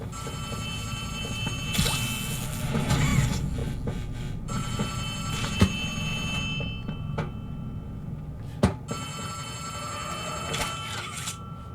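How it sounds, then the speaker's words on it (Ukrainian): An old telephone rings in Poppy Playtime Chapter 3, a repeated bright bell ringing in bursts over ambient game noise, with occasional sharp clicks. "Боже, десь тут є телефон."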